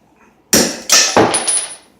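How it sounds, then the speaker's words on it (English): A 10-pound sledgehammer hits a valve spring on a Ford 300 inline-six engine being rebuilt: three sharp, loud metallic blows in quick succession, close up, the last ringing briefly before fading. "So I get my 10-pound sledge."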